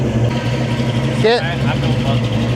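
A vehicle engine with a freshly repaired clutch cable runs steadily at a low, even idle close by, with people talking over it and a brief higher-pitched sound rising partway through.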